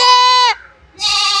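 A pink-coated female goat bleats loudly and close, two strong calls separated by a short pause.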